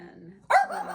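A pet dog gives one sharp, loud bark indoors midway through, with a soft human voice murmuring just before it and a brief tail of sound after.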